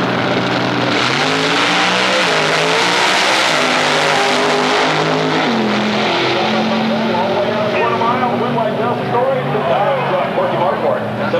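At Atlanta Dragway in Commerce, Georgia, drag race cars roar and rev loudly, their engine tones rising and shifting under continuous commentary from an announcer.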